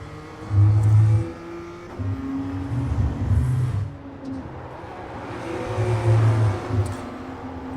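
BMW M2 CS engine in iRacing at Virginia International Raceway North, revving up in rising pulls after downshifts into third, with brief drops between gears, loud and close, no talk.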